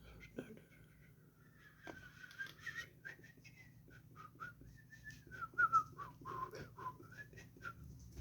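A person whistles a wavering, halting tune with short broken notes and slides, fairly quiet against a low steady background hum.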